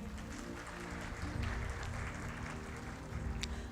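Applause from an event audience at a Capital Smart Motors gathering, clapping mixed with a low steady hum and rumble, moderately quiet, with a couple of louder swells.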